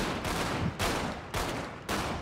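Gunfire in the video game GTA 5 roleplay, heard as four loud bursts at regular intervals. Each burst starts sharply and then decays into a noisy tail.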